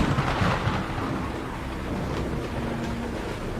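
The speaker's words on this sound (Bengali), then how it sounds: "আচমকা বুক কাঁপিয়ে দিয়ে একটা বাজ পড়ার শব্দ হলো, খুব কাছেই কোথাও।" Thunder with heavy rain in a dramatized story: a deep rolling rumble under a dense, continuous hiss of downpour, fairly loud and sustained throughout, with no voices.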